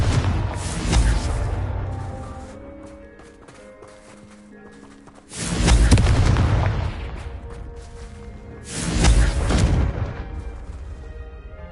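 Three heavy booms of the Confringo blasting spell in a wizarding video game, each a loud explosive burst with a rumbling decay, spaced several seconds apart over a quieter background.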